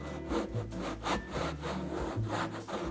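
A hand rubs across a thin, coarse lizard-skin snare drum head, giving a dry, sandpaper-like scraping in repeated strokes. The rubbing is close and steady, with no voices.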